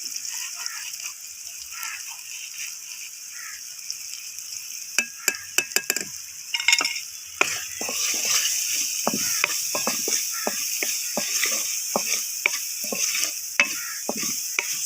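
Garam masala, turmeric, ajwain and dried coriander roast and stir in a hot pan for a samosa filling, giving a steady sizzle with frequent scraping stir strokes and light clinks, close and continuous.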